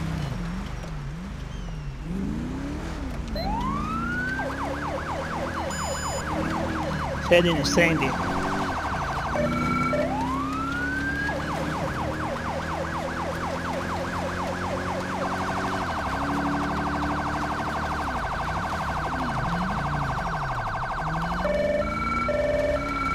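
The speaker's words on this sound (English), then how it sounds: "Still using the Federal Signal Smart Siren." A Federal Signal Smart Siren on a police car in GTA V cycles through rising wails and rapid yelps, loud and steady over a rumbling engine, with someone talking over it.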